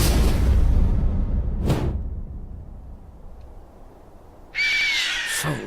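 A bird screeches in the Borderlands 2 video game, two sharp swooping cries, one midway and a louder, longer one near the end, over a low rumbling game ambience.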